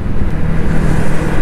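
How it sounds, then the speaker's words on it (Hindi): Steady road traffic in a Delhi traffic jam, heard from a 100cc motorbike: a continuous loud engine and roadway rumble with wind buffeting and no talk. "अभी भी जाम मिल रहा है, ट्रैफिक थोड़ा थोड़ा"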